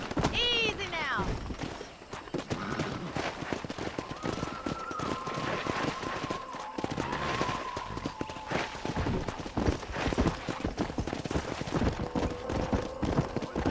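Steady clip-clopping hooves of a horse at a run, continuing throughout, with game music and ambient sounds layered underneath, in the video game Red Dead Redemption.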